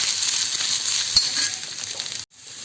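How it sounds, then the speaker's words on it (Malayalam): Grated coconut roasts in a hot pan with a continuous soft sizzle and faint stirring scrapes, one small clink partway through and a brief dropout near the end. "തേങ്ങ പെട്ടെന്ന് മൂത്ത് വന്നിട്ടുണ്ട്"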